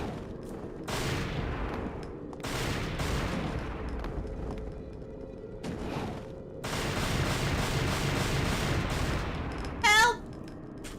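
Gunfire and explosive bursts from the video game Devil May Cry 2, coming in long sustained volleys with short gaps, loud and dense, ending with a brief sharper burst near the end.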